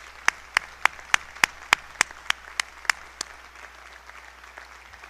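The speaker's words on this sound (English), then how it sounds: "Let's give an applause to these entrepreneurs." At an honorary degree conferment ceremony, a sparse round of clapping sounds as about a dozen sharp, evenly spaced claps that slow and fade out over a few seconds, with no talk.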